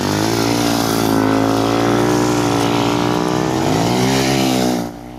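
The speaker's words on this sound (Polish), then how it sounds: "te motocykle są, to są takie troszeczkę miniaturki motocykli tych żużlowych" Miniature speedway motorcycles roar past at a youth training session on a track, a loud continuous high engine drone with shifting pitch that fades out abruptly at the end.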